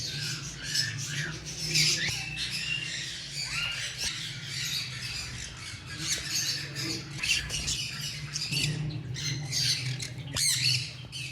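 Caged parrots for sale, ringnecks and cockatiels among them, squawk and screech loudly and repeatedly in a close chorus of harsh, overlapping calls with no talking.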